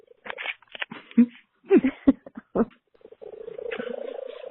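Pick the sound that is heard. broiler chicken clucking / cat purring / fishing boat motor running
cat purring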